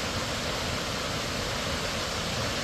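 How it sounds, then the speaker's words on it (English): Warm Springs Falls, a waterfall tucked into a mountainside, fills the scene with a loud, constant broadband roar of falling water and no breaks or other sounds. "This is Warm Springs Falls. Nice waterfall that's tucked in the mountainside here."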